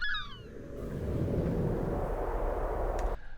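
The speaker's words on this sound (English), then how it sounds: "a really nice bassy whoosh that comes in right after the seagull" A bassy whoosh sound effect swells low and soft right after a brief gull cry, rising into a dull rushing rumble for a few seconds before cutting off abruptly.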